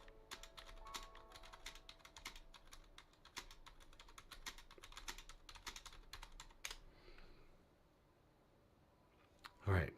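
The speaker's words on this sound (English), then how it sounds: "I gotta type in the password again." Fingers type a password on a computer keyboard, making quick close clicking keystrokes in an irregular stream that pauses near the end, followed by a brief louder thump.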